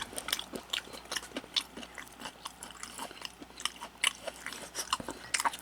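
Mini pig's trotters (jokbal) from a supermarket, dipped in ssamjang, being chewed close up: a steady run of soft, wet bites and crunchy chewing clicks with no talking.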